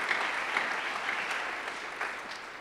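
A church congregation applauds together during a sermon, a dense, moderately distant patter of many hands that holds steady for a couple of seconds.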